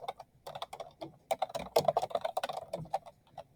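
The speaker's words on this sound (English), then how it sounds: "Then I'm going to type inquiry question," Typing on a computer keyboard, a close, fast patter of individual key clicks in short uneven bursts with small gaps, alone and clearly audible.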